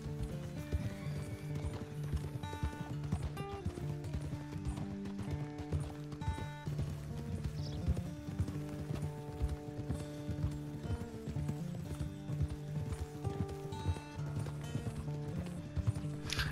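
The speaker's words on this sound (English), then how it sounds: "You're gonna hear a couple horses thunder hoofing down the old alleyway" Several horses gallop in the Western video game Red Dead Redemption 2, with quick, rhythmic hoofbeats and an occasional whinny over steady background music.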